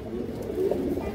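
Pigeons coo softly in a brief, low murmuring burst, close by and fairly quiet with no voices over it.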